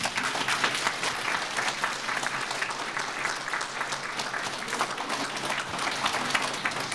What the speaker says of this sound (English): just give some applause to some of those people